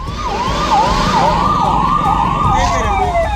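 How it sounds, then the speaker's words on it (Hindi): Ambulance sirens wail across a city during a toxic gas emergency in Visakhapatnam, with loud, close, repeating rising-and-falling sweeps over street rumble and traffic. "पूरा शहर एम्बुलेंस की आवाज से गूंजने लगा"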